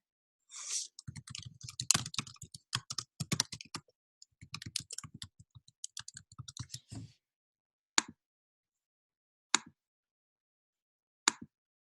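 Computer keys clatter in quick, uneven bursts of typing to log in, close and clear in a quiet room, followed by three isolated clicks spaced a second or more apart.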